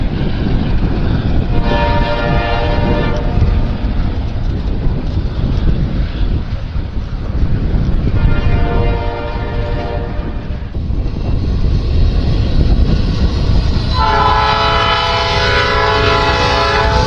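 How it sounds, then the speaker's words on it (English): Freight trains roll through the Fostoria rail diamond in Ohio on a winter day, wheels and cars rumbling steadily for the whole stretch with wind buffeting the microphone, and a horn blares in repeated blasts, the last one long and near. "That is why many of these trains are going slower than they normally would at Fostoria."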